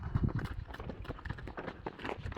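Hooves of a ridden horse clip-clopping on a rural track, a quick uneven run of close, fairly soft hoof knocks with no voices over them.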